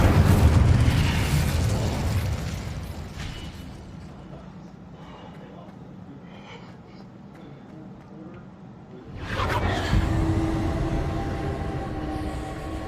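A Confringo fire spell bursts in Hogwarts Legacy, a loud fiery blast that rumbles and fades to a low murmur before a second heavy explosive surge erupts near the end.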